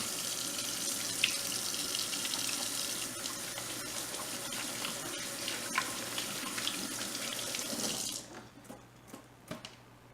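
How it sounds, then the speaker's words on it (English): A kitchen tap runs loudly as hands are washed, a steady close rush of water for about eight seconds, then it shuts off, leaving a few faint drips and clinks. "wash your hands."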